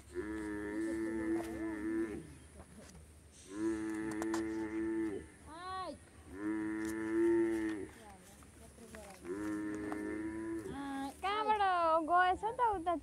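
A buffalo calf moos repeatedly in long, drawn-out calls at moderate distance, with short pauses between them and a voice briefly heard near the end.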